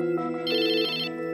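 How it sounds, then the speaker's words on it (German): A young woman's mobile phone rings nearby, a bright electronic ringtone of layered tones in a short melodic pattern, heard alone without talk. "Dann klingelt ihr Handy."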